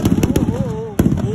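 Firecrackers bursting at a village Dussehra celebration in Budhi, Kathua, Jammu and Kashmir: a rapid crackling string of sharp, loud pops outdoors, with one bigger bang near the end and a whistling tone rising between blasts.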